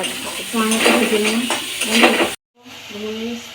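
Hand-ground spice paste for ghugni fried and stirred in a pan, with steady sizzling and scraping of a spoon against metal, a short cut of silence, then more frying and stirring.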